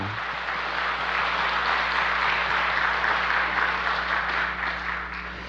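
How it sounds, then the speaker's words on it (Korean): Warm, even applause from a church congregation thanking the choir, many hands clapping steadily for several seconds in a reverberant hall, fading slightly at the end. "우리 다시 한번 우리 찬양해준 우리 성가대 위해서 박수 한번 부탁드립니다"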